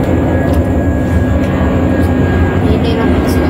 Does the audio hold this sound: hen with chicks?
no